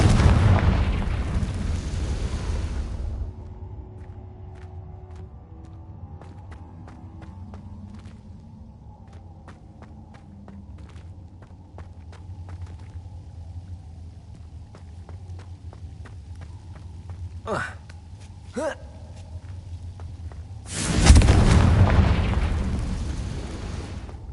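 A Confringo blasting spell in Hogwarts Legacy, heard as a loud booming burst at the start, then quieter ambience with scattered pops and snaps, and another heavy explosive blast near the end.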